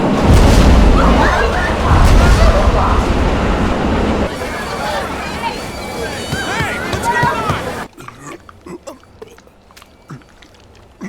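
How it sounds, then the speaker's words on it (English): A train pulls into a station platform in Persona 5 Royal, with a loud rumbling, clattering roar that fades after a few seconds, a platform announcement voice over it, then quieter station ambience with scattered clicks. "inbound train will soon be arriving at platform number 1"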